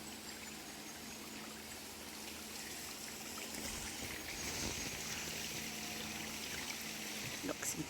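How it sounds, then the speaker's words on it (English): Water from a waterfall flows down through rocks into the Kerikeri River, a steady broad rushing and trickling wash at a moderate distance, with faint voices now and then. "There's a waterfall up there, and it comes down through the rocks"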